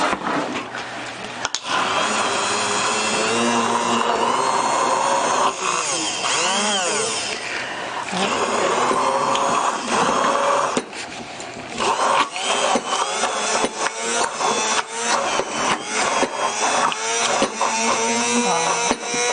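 A Bamix hand blender purees baba ganoush in a cup, its motor whirring loudly and continuously for the whole stretch, the pitch wavering and dipping as the blade churns the thick eggplant mixture, with no talking.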